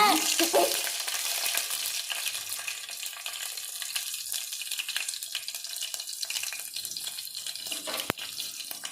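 Seasoning crackles and sizzles in hot oil in a home kitchen pan while cooking dal khichdi, a loud, dense, steady hiss with popping throughout and one sharp tap near the end.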